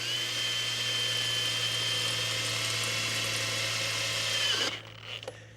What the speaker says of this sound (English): get your drill in that little dimple you did